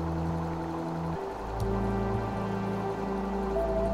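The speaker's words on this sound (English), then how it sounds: "The bridge is dripping, almost like it's raining right now" Water drips from a bridge in the video game Kitty Kart 64, a steady trickling wash over a low engine-like drone with a few soft splashing accents.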